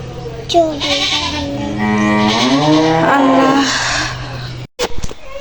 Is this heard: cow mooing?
yes